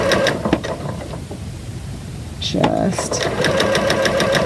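A sewing machine stitching curved quilt pieces in pinless piecing, running in short rhythmic bursts with a brief pause, heard close under a person talking.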